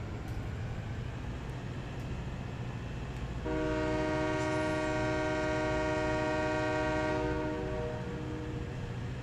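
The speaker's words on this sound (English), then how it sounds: "they put in a more detailed train system, because this train is awesome" A train horn in Farming Simulator 17 sounds a long, steady sustained blast from about the midpoint onward, loud over continuous rumbling rail and engine noise, with no talking.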